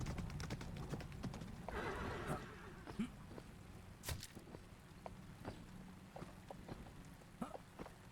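In a video game, hooves clip-clop steadily on hard ground while a horse whinnies partway through, with a light patter like rain in the background.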